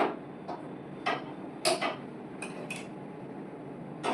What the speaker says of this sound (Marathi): आता मी गॅस चालू करते